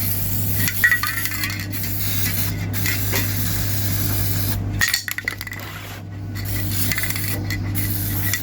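An aerosol spray can hisses in a steady continuous stream while a wheel is being painted, pausing briefly near the middle before spraying resumes, close and fairly loud over a constant low hum.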